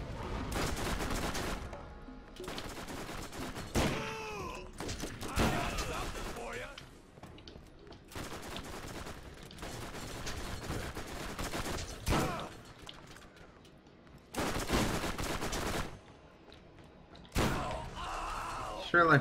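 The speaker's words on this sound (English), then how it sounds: "Like firing that submachine gun." Submachine gun fire in the Borderlands video game rattles in several loud bursts separated by pauses, with a voice talking over parts of it.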